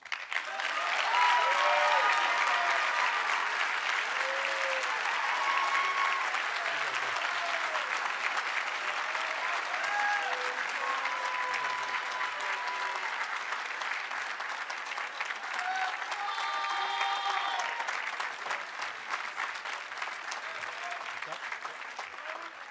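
Sustained applause from a large commencement audience for award winners, dense and steady for about twenty seconds, with a few voices and whistles audible above the clapping.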